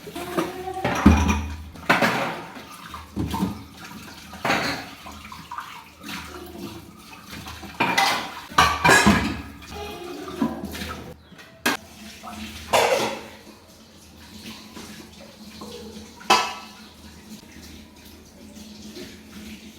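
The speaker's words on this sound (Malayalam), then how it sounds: "ഭയങ്കര സൗണ്ടിലാണ് പാത്രം കഴുകുക" Dishes being washed loudly at a kitchen sink under running water, with repeated sharp clatters and bangs of utensils against each other standing out over the steady flow, close and busy.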